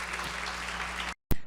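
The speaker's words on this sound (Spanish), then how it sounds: "Démosle un fuerte aplauso al Señor" Church congregation at a Wednesday Bible study claps loudly together in praise, a dense steady wash of applause that cuts off abruptly into silence, followed by a single sharp sound.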